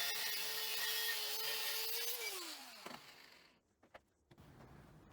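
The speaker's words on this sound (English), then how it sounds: "The round stock is cut" A power saw cuts through metal round stock, giving a steady whine that drops in pitch as the cut finishes and the motor winds down. A few light knocks and clatters follow in the quiet workshop.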